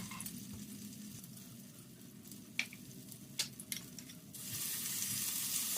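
Red curry paste frying in vegetable oil in a pan over medium heat, a soft steady sizzle with a few stirring scrapes, rising into a louder, brighter hiss near the end, no talking.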